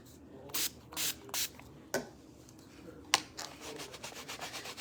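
A few short, sharp bursts of mist sprayed onto a rubber stamp hiss in quick succession, followed by light scrubbing and rubbing sounds at close range.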